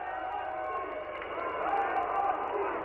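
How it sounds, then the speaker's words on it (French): A crowd at a 1969 USSR versus Sweden ice hockey world championship game keeps up a steady roar of applause and cheering, broad and somewhat distant, with voices mixed into the sustained noise. "le public en connaisseur applaudit"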